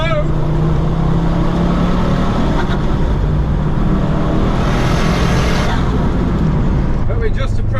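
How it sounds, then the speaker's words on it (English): A modified turbocharged Ford car engine drones loud and continuous from inside the cabin, holding steady for several seconds with a rising whoosh near the end, while people talk over it. "I love the turbo!"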